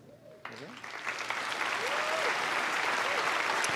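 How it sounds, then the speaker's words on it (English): Applause at a 2022 Collinsville High School graduation ceremony swells from a brief voice into a sustained, roaring wash of clapping from a large crowd, heard at a moderate distance. "Please give these individuals a round of applause for their service at Collinsville High School."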